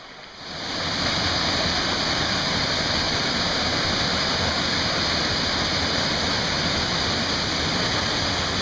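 A steady, loud rush of flowing stream water at Kbal Spean on Kulen Mountain, Siem Reap, fills the scene, a continuous broad hiss and burble that swells in quickly and holds without pause.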